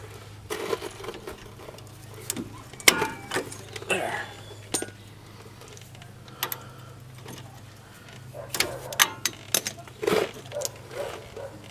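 A wrench working a 10 millimeter bolt on a Chevy Express front suspension, giving scattered metallic clicks, clinks and short scraping knocks at irregular intervals over a quiet garage background, separated by brief pauses.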